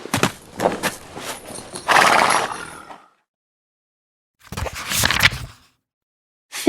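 A horse whinnies loudly amid a busy clatter of hooves, then falls silent before a second burst of neighing and hoofbeats, all close and with no talking.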